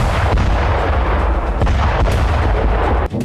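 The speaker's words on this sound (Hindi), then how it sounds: "सना से विस्फोट की आवाजें आती रही।" Dense, continuous rumbling blasts and booms from missile strikes in a war roll one into another, loud and unbroken, with a few sharper cracks standing out near the end.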